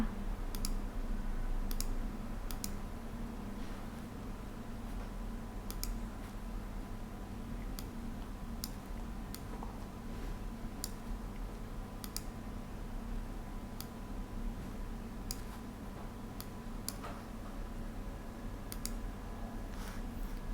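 Sharp mouse clicks from CapCut editing software on a computer, scattered singly at irregular intervals over a steady low hum, fairly faint and close.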